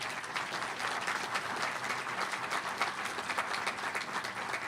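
A crowd applauds for a construction company at an alumni center dedication, dense and sustained clapping from many hands filling the space at an even level.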